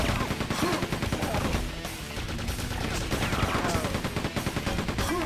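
Continuous rapid gunfire from Gunner enemies in Quake II, a dense chattering of machine-gun shots with explosive impacts, loud and sustained for several seconds.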